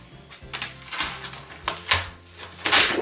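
Plastic projector film peeled off a Cricut-cut craft sheet for a Valentine's candy window box, heard as a series of crackly, crinkling tears in short bursts, close and fairly loud with no talking.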